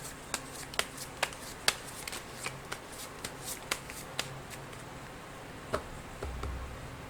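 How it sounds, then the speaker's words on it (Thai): Tarot cards shuffled and drawn during a Thai daily horoscope reading, a run of sharp, close riffling snaps at irregular intervals over a quiet background, with a soft rustle near the end and no talking. "เดี๋ยวจะมาเสี่ยงไพ่ดูให้เพิ่มเติมนะครับ"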